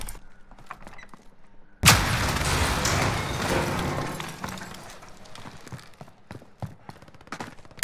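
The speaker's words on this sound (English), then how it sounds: "here's your proof of how good the goddamn shotgun is" An incendiary shotgun fires in a shooter video game, opening with a loud, sudden blast that rolls into a long crackling burn, followed by a scatter of sharper shots and clicking mechanical clatter.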